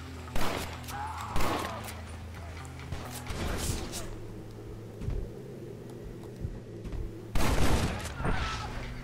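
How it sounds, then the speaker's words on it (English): Gunshots in Red Dead Redemption, a few sharp cracks spread across the stretch with echoing tails, one near the start, others mid-way and a louder burst near the end, amid game ambience and a voice. "Let's see if I can shoot his gun out of his hands."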